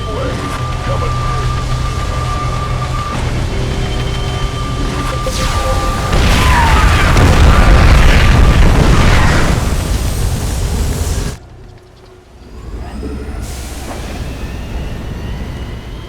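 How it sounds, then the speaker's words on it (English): Purifier superweapon firing in the StarCraft 2 video game: a loud, sustained rumbling energy blast that swells into a booming peak, then cuts out abruptly before a lower rumble resumes. "I'm detecting a massive energy spike. The Purifier is about to fire."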